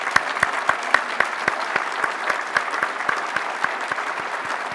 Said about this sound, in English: please give him a brief round of applause